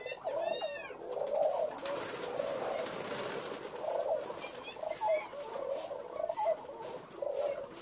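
Many pigeons at a pigeon farm coo continuously in a dense, overlapping chorus, close and steady, with occasional fluttering and chirps mixed in.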